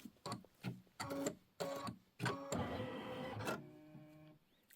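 An embroidery sewing machine stitches a satin outline on a quilt, making a quiet run of rhythmic mechanical bursts that settles into a steady whirring stretch before stopping.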